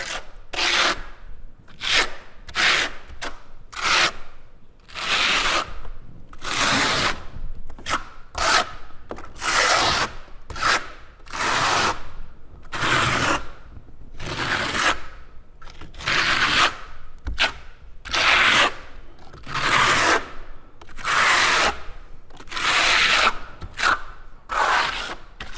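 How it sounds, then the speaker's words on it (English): A trowel scrapes mortar onto a tile substrate in repeated rasping strokes, each lasting about a second with short pauses between, close and loud with no talk. "and we're going to key in this mortar."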